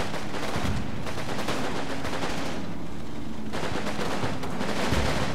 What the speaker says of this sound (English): we've got Americans moving up this lane here, opening fire on the Germans